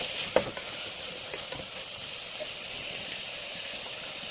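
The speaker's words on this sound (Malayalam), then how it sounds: "ടൊമാറ്റോ നല്ലപോലെ വേവുന്ന വരെ നമുക്ക് ഇളക്കി കൊടുക്കാം" Tomatoes fry in a pan for tomato rice and are stirred with a utensil, making a steady close sizzle and hiss broken by a few light scraping knocks.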